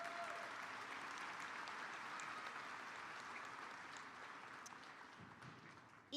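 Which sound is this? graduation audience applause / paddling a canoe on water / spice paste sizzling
graduation audience applause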